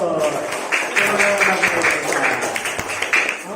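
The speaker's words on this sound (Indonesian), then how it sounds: "tepuk tangan" Classroom applause breaks out among students after a child's answer about Indonesian independence, a dense steady patter of clapping under lively chatter and voices.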